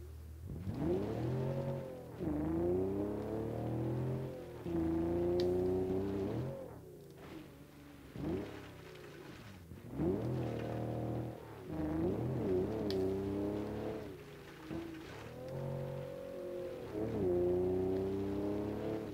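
A Jeep in the BeamNG Drive video game accelerates hard on nitrous, its engine note climbing in repeated rising sweeps, loud and close, with brief dips between surges.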